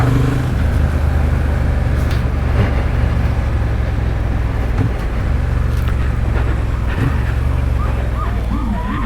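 A Honda Hornet CB750 motorcycle pulls hard out of road bends, its engine droning loudly and steadily under heavy rushing wind noise, with the pitch rising slightly as it accelerates.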